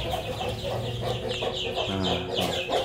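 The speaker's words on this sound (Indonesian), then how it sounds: "Suara ayam. Iya, suara ayam kayaknya." Many chickens clucking together in a village setting in Lampung, close and loud, a busy overlapping chorus of short repeated clucks and squawks with no talk.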